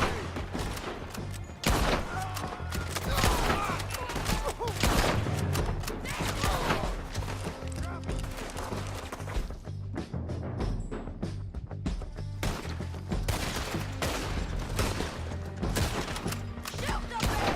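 Battle gunfire in the video game Red Dead Redemption 2, with repeated shots, thuds and crashing impacts scattered irregularly across a long stretch, some bursts sharp and close, others duller, over a constant busy background.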